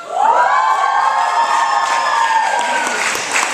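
Audience at a Filipino American Heritage Month event cheering, a loud sustained crowd roar with whoops and shouts carrying through the whole moment.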